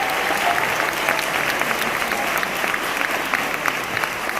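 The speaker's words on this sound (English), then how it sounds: "one big round of applause for all of our awesome all-state students" An audience at a county all-state music event gives a steady, dense round of applause, many hands clapping together without letup from start to finish, with faint crowd noise mixed in.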